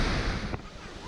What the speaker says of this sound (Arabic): اذا الشلال كله هنا